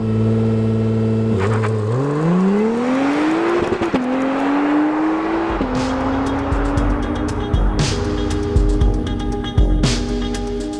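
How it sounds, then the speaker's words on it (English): An Acura NSX engine in track mode revs up against the brake before launch, pitch rising, climbing and holding at high RPM, loud and close, with sharp crackles and pops toward the end. "put my left foot on the brake, build up the revs"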